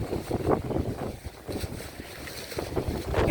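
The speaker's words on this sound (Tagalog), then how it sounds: "Lakas ng hangin guys." Strong gusty wind at a house-framing jobsite buffets the microphone in low rumbling surges, rising and falling over a few seconds with no one speaking.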